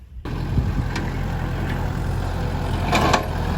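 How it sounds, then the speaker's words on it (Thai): A 36-horsepower farm tractor works a field being prepared for planting. After a brief quiet start its engine rumbles loud and close, holding a steady drone with a few faint higher clatters. "มาแล้วครับรถไถของเรานะครับ"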